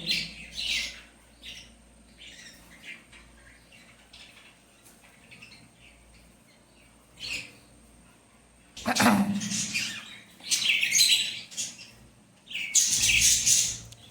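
Young birds kept in a pot chirp in scattered, faint calls at first, then break into several louder, close bursts of squeaky cheeping near the end, without talk.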